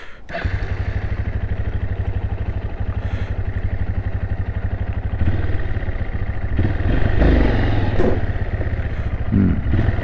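Honda SL230 motorcycle with its secondary air-injection system cancelled, riding off with a steady low-mid engine drone and clattery throb that builds slightly as it accelerates, fairly close and continuous without talk.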